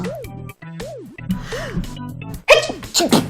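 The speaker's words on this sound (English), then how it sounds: "Good sneeze." A sudden, loud sneeze bursts out near the end, following a run of repeated warbling tones.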